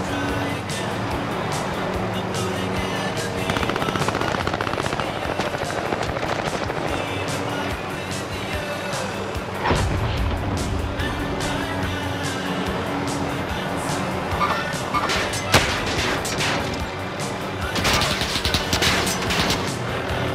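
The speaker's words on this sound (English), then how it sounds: "We're getting shot at from fucking elsewhere now" Dense, continuous video game gunfire during a late-round squad fight, with bursts and shots layered over engine-like rumble and occasional speech, steady and loud throughout.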